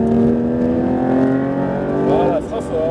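A Porsche 992 GT3 RS accelerates hard on a race circuit, its engine note climbing steadily in a loud, close-up interior drone with a brief dip near the end, while a voice talks over it.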